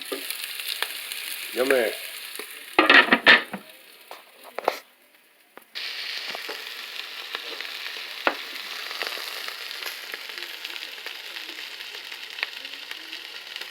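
Kielbasa with carrots and onion cooking in a pan, giving a steady close sizzle after a brief burst of clattering, with a short spoken remark near the start.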